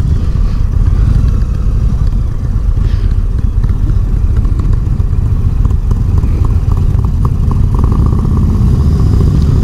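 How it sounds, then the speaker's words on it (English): A 2022 Indian Roadmaster motorcycle with a 119 lb-ft torque engine pulls away under throttle, its loud, steady rumbling drone filling the whole stretch with no voices over it. "It sounds like a bike should when it takes off."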